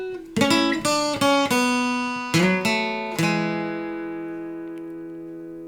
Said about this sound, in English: So I put the whole of that lovely little introductory guitar phrase together.